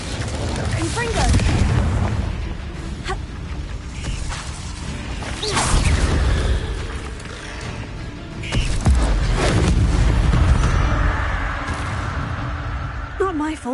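Confringo explosive spell in Hogwarts Legacy: repeated whooshes and booming blasts with crashing impacts, loud and close, while a voice talks over the battle.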